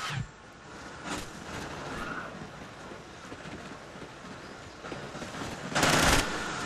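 Gunfire in Call of Duty: Ghosts, set in a prison map, comes as scattered sharp shots over a steady noisy bed, ending with a louder, denser burst near the close.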